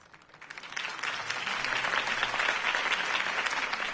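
Crowd applause in the video game Batman: The Telltale Series swells up from quiet and holds as a dense, sustained wash of clapping from many hands.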